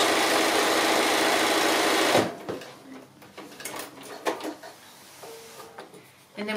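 A sewing machine runs steadily for about two seconds, stitching a Christmas stocking seam, then stops. Quieter fabric handling and scattered clicks follow, and a brief restart comes at the end.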